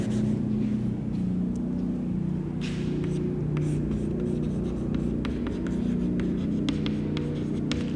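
Marker or chalk strokes writing a polynomial equation on a board in a class 10 maths lesson, faint scratchy squeaks scattered over a steady low hum of traffic or machinery.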